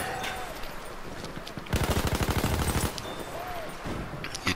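A World War I MG 08 machine gun fires one sustained rapid burst of about a second in a battle game, loud and close, with quieter ambient gunfire and game noise before and after.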